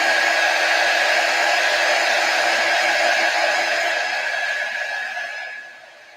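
A hair dryer runs steadily and loud on its own, drying chalk paste on a wooden 5x12 box frame with a church cutout, its whine holding constant before trailing off at the end.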